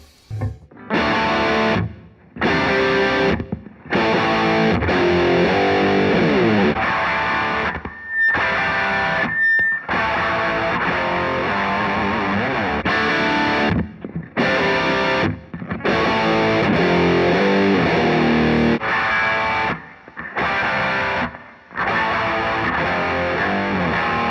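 Heavily distorted electric guitar plays loud riffs through an amplifier, with short pauses between bursts of chords.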